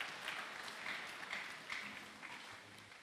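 A church congregation applauding, a steady faint wash of many hands clapping throughout, heard from a distance with no voices.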